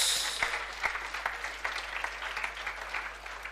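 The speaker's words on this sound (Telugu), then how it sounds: "అందరూ కొట్టండి చప్పట్లు" A room full of students in an accounting class claps together, a steady crackle of many hands that rises quickly at the start and then gradually fades.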